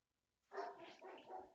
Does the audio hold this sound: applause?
no